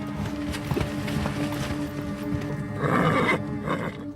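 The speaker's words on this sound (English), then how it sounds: "And of course, his precious horses, 15 of them." Horses neigh and whinny over a busy background of hoofbeats and movement, with a louder whinny rising near the end.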